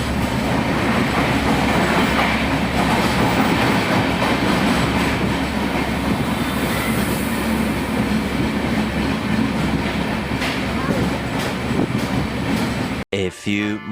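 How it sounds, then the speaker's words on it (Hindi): An Antyodaya Express passenger train on the move gives a loud, steady rumble with clattering wheels and rattling carriages, continuous throughout before cutting off abruptly near the end. "निकल गई गाइस हमारी ट्रेन"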